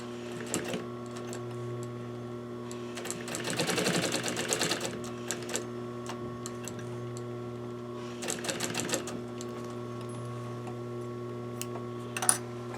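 Sewing machine stitching a parson's chair slipcover, short bursts of rapid ticking needle strokes around 3–4 and 8–9 seconds, with a steady low motor hum and scattered clicks between.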